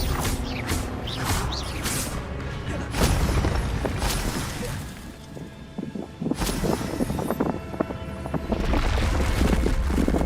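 Expelliarmus spell cast in Hogwarts Legacy, heard as a string of sharp crackling, shattering and clanking magical hits with a deep boom, loud and close, easing off briefly midway before surging again.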